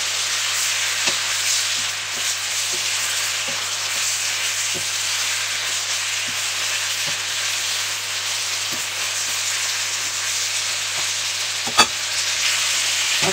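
Pork liver fries in a pan with a loud, steady sizzling hiss throughout, broken by occasional soft clicks of stirring and one sharper knock near the end.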